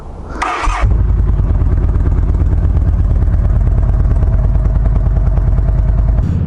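A Yamaha V Star 1300 V-twin cruiser motorcycle starts with a short starter whir and catch, then settles into a loud, steady, lumpy idle with a rapid even pulse up close.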